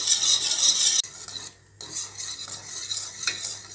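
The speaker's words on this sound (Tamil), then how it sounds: "இதை நல்லா இதே மாதிரி விஸ்க் வச்சு கலந்து விட்டுக்கோங்க." A whisk works through foxtail millet milk pudding as it thickens in a pot, making a close, continuous scraping swish that cuts out briefly and then resumes in steady strokes, with no talking.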